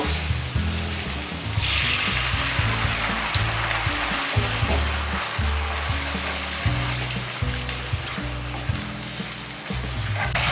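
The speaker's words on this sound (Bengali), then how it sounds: "দইটাকে মিশিয়ে দিয়ে আমি 1 থেকে 2 মিনিটের মতো ভেজে নেব মশলাটাকে।" Whisked yogurt and spice masala sizzling loudly in a hot pan for a pointed gourd curry, a dense continuous frying hiss broken by steady scraping strokes of stirring, with no voices.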